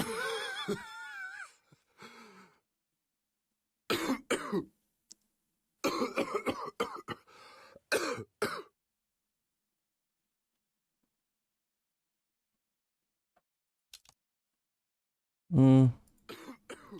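A man with a burned throat coughs in harsh, separate bursts, several short fits broken by silent gaps and mixed with strained groaning, close and fairly quiet.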